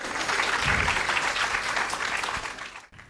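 Audience applause greeting the presentation of a memento at a stage event, a steady broadband clatter of many hands that holds for nearly three seconds and then drops abruptly to near silence.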